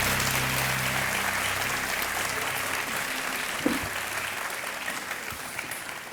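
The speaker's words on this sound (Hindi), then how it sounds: "तालियां बजती रहनी चाहिए नेहा जी के लिए।" Studio audience applause for a housewife contestant from Nalanda, Bihar, taking the hot seat on a quiz show, sustained dense clapping at steady loudness throughout with no talk.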